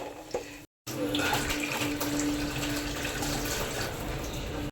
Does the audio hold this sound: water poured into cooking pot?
yes